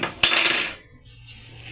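A metal spoon clinks sharply once against a bowl while adding a spoonful of salt to kitfo seasoned with mitmita, followed by a faint softer tap, close and isolated.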